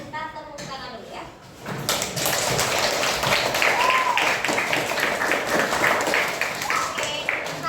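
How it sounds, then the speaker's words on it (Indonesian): Grade six pupils in a classroom break into applause, a dense burst of clapping starting after a short quiet pause and continuing steadily, with brief voices before it. "Kita tepuk tangan dulu ya."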